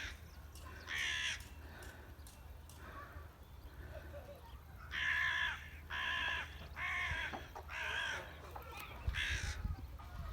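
Several crows caw in harsh, repeated bursts, some spaced out and then a steady run of four loud calls, over a low rumbling outdoor background.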